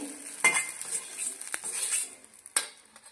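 Grated coconut roasting in a pan for chole masala rustles as it is stirred, with metal spoon scrapes and clinks against the pan and a soft sizzle beneath, the sharp scraping accents coming irregularly.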